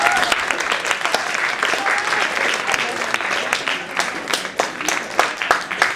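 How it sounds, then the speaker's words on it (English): Audience applause at a mock college interview event, steady crowd clapping with distinct sharp claps throughout, fairly close. "Another round of applause."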